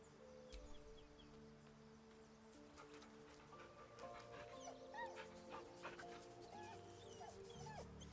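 In the video game Baldur's Gate 3, a dog whimpers and gives soft yips and small barks over a quiet ambient background, the cries rising and falling throughout.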